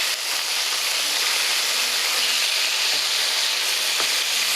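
Chicken sizzles and fries steadily in a hot pan, a dense continuous hiss with no voices, as it browns on the bottom before being flipped.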